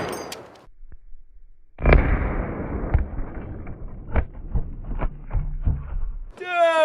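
Gunshot firing an incendiary round into a block of silly putty, a single sharp close blast followed by rumbling echoes and scattered clatter, with a voice rising at the end.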